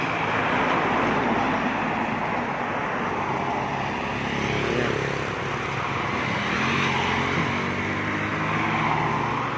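A steady roar of passing vehicles on a rural road through farmland, a continuous broadband rush that swells slightly as traffic goes by, loud and close, with no voices.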